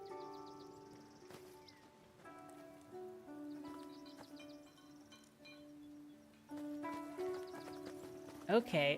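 Hooves clip-clop and a horse neighs in a video game, mixed with tonal game sounds and steady rhythmic hoofbeats that swell near the end.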